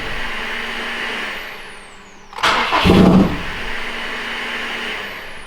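A 2017 Subaru WRX STI running cold on E85 cranks for about a second, then catches and revs up briefly before settling to a loud, close idle.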